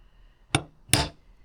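Two light metallic taps on a cheap pot-metal TTR230 carburetor, spaced about a third of a second apart, the second a little fuller, close up in a quiet workshop.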